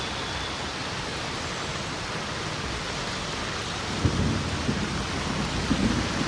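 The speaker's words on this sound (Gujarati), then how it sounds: "વીજળીનો અવાજ આવે છે વીજળી પણ થાય છે" Steady heavy rain roars throughout in Bhavnagar, Gujarat, with low rumbling bursts of distant thunder near the end; no voices.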